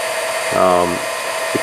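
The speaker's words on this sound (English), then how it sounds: "For some reason I wanted to do the heat gun" A heat gun warms an aluminum Ford Coyote modular-engine bellhousing, giving a steady, close airflow hiss throughout the short stretch, with a brief tonal, voice-like hum in the middle.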